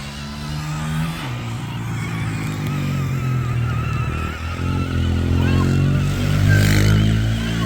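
A child's 20-volt Power Wheels ride-on car drives across a yard on its low 'turtle' speed setting, its electric motor whining steadily with a clattering, rising drone and no talking.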